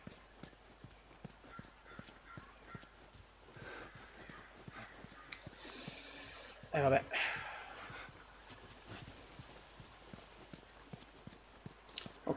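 Rapid clip-clop of horse hooves trotting steadily in the video game The Last of Us, with a brief burst of noise and a short spoken remark partway through.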